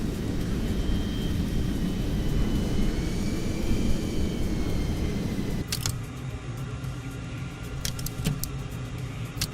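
F-14 Tomcat jet idling and rolling on the ground in Microsoft Flight Simulator, a steady loud engine roar and rumble throughout, with a few sharp clicks and a shift in tone partway through.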